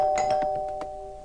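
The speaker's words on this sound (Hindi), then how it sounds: "जोर से घंटी बजाई" A doorbell chimes with a sustained tone and a few soft clicks, ringing out and fading over about a second.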